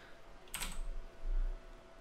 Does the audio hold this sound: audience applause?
no